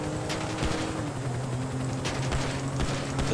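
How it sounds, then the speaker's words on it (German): Gunfire aimed at a helicopter in the video game GTA Online cracks out in several sharp bursts over a steady low rotor hum, with no talking. "Ich knall den scheiß Heli ab."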